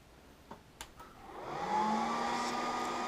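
A Cisco ASA firewall fitted with an SSM module powers on: a few faint clicks, then its cooling fans spin up into a loud, steady whirring roar that holds alone.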